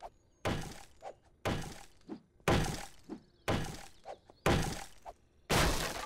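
Repeated pickaxe strikes in the survival game 7 Days to Die, Alpha 10.2, chipping at a house: six sharp, loud thunks at a steady one-per-second rhythm, each trailed by a softer knock, close and without talk.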